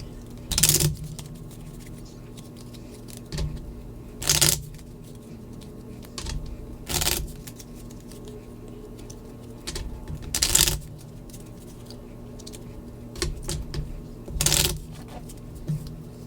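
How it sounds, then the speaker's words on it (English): Cards shuffled in several short, crisp riffles, about one every few seconds, with quiet handling and a low hum between bursts. "We'll go ahead and give that a shuffle."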